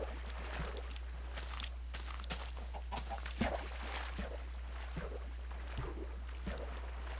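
Chickens cluck in the video game Minecraft, soft repeated clucks and faint footstep-like taps spread across a steady background hum, with no talking.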